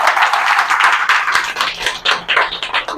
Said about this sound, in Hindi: मिस्टर दिनकर सर के लिए एक बार जोरदार तालियां हो जाए